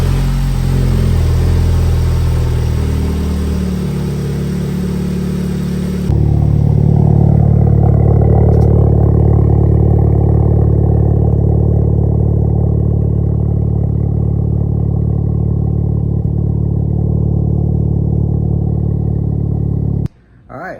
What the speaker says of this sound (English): All right, so let's start up the car.